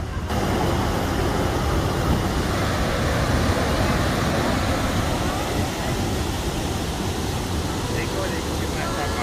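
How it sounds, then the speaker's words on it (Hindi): A Rocky Mountains waterfall roars as a steady, dense rush of falling water that fills the whole stretch without a break, close and loud. "देखो कितना अच्छा वाटरफॉल है।"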